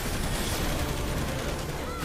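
Barrage Fire attack in the game Final Fantasy XIV, a dense, continuous roar of rapid gunfire filling the whole stretch, loud and unbroken.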